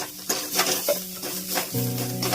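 Water poured into coriander-powder spice masala frying in a pan for a Bengali boal fish curry, giving a bright steady sizzle with stirring scrapes and a few clinks of the utensil against the pan.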